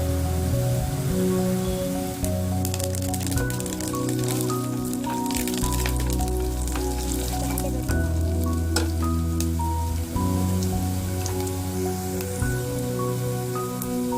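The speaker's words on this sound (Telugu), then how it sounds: "ఇప్పుడు కరివేపాకు వేసుకున్నాం." Curry leaves sizzling in hot oil in a pan, a steady crackling hiss that runs under louder background music.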